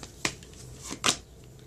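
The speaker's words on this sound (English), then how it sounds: "Give them a quick shuffle." Tarot cards given a quick shuffle, faint and close, with two or three brief crisp riffles over quiet room tone.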